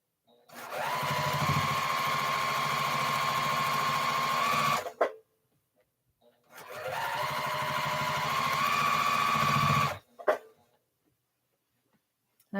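A sewing machine runs in two steady bursts of about four seconds each, stitching straight seams on a quilt with a grid design, with brief clicks and pauses between the runs and no talk.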